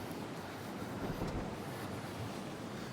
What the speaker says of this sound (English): Ooh, I was lucky that water just splashed right up here.